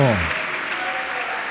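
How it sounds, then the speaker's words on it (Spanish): Church congregation applauding, a dense, steady wash of clapping that fills the space, with a brief voice tone at the very start before the applause carries on alone. "Démosle un aplauso a ese Dios viviente."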